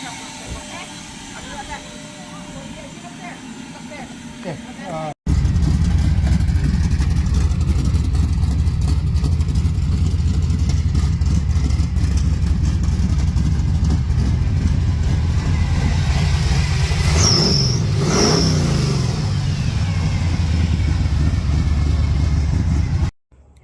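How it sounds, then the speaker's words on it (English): A V8 car engine, prepared for duct tape drags, starts up and runs loud and close at a steady rumbling idle with a brief rev partway through, after a few seconds of quieter handling noise, then cuts off abruptly. "Well, I finally got this thing running, and it runs amazing. It's firing on all 8 cylinders."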